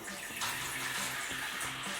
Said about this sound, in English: Now we're going to add 1 gallon of water.